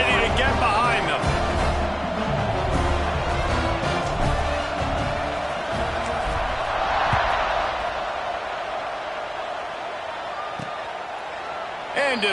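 Texas–Florida college football stadium crowd at kickoff: a steady, loud roar and cheering throughout, with a commentator talking over it.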